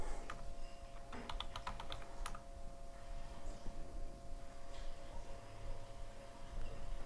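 A computer keyboard is typed on in quick bursts of close, crisp key clicks early on, followed by sparse taps over a quiet background hum.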